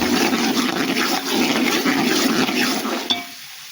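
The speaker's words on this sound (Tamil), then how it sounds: "வெங்காயம் நல்லா வதங்கிருச்சு" Onions sautéing for vegetable pongal in a pan with bay leaf and spices, a steady broadband sizzle and frying hiss running continuously before cutting off abruptly near the end.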